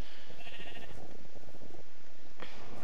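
Sheep bleat in a modded Minecraft survival game, two or three close, wavering calls over a dense background of game noise, with no talking over them.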